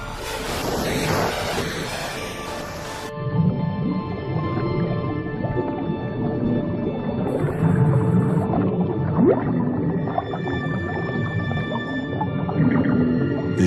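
Dwarf minke whales call underwater. A harsh buzzing burst is followed by low, wavering grunts and moans over a constant wash of water noise, with a faint metallic pulsing in the middle. No one speaks.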